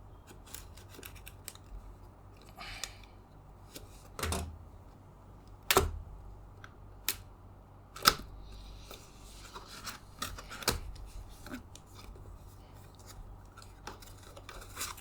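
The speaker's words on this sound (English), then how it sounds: "So I'm going to just rip the seal apart." Scissors snip and tear at the seal on a boxed Cooler Master Hyper 212 Spectrum V3 CPU cooler, giving sharp close cuts and soft rustling at irregular intervals against a quiet background.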